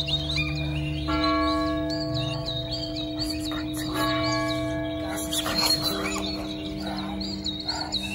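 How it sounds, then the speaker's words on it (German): Church bells toll a death knell near a cemetery grave, their ringing tones sustained and fairly distant. Birds chirp alongside them. "Die Totenglocken läuten."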